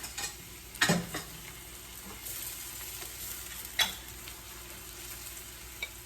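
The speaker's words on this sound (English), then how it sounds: "So I'm adding in my chiles right now." Chiles dropped into a pan of frying onions give a soft, steady sizzle with a few sharp clatters and stirring knocks, fairly quiet and close, without any voices.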